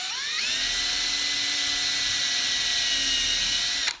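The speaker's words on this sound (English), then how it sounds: "and then I am slowly beginning to drill" Electric drill boring into a phone book, a steady high-pitched whine that ramps up at the start, holds for several seconds close by, then cuts off abruptly.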